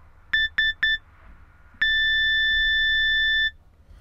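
Three quick electronic beeps followed by one long steady tone, clean and close, like an answering machine signalling to record.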